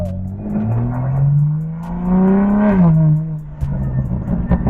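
BMW G82 M4 engine revving from inside the car, a loud rising and falling exhaust note with a smooth harmonic growl swelling and then settling, with no talking.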